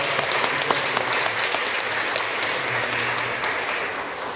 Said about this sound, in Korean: 우리 박수를 하면 그 영광을 돌리겠습니다.